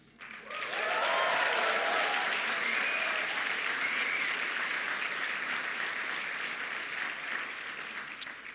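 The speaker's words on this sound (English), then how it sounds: "Just from the applause" Sustained, dense audience applause at a university opening address by a dean, swelling quickly and holding steady at full loudness for several seconds before tapering slightly, with no voices over it.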